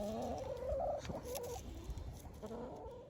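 Chickens and turkeys cluck and gobble around a hanging feeder, making a busy, overlapping chatter of fowl calls over a low outdoor rumble. Someone says a single word.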